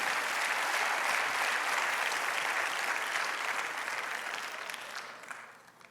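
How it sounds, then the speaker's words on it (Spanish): A church congregation claps steadily for several seconds during a Christmas sermon, the applause dense and even before tapering off at the end. "Dale un aplauso a ese Cristo por haber nacido."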